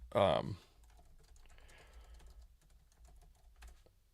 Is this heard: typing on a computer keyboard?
yes